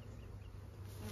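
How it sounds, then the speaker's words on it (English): Honeybees hum steadily and densely at close range throughout, a continuous insect drone from frames lifted during an inspection of backyard hives, with no voices over it. "Two frames of bees in there."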